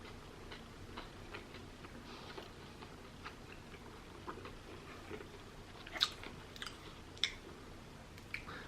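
Faint, close chewing of a Steak n Shake burger with crisp pickles and onions, soft irregular wet bites and crunches in a quiet room, with a few louder clicks near the end.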